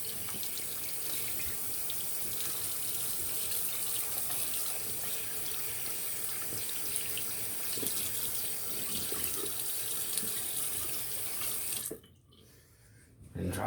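Water runs steadily from a tap into a sink while lather is rinsed off hands, a constant soft splashing flow that stops near the end.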